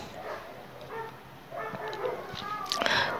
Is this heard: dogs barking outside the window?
yes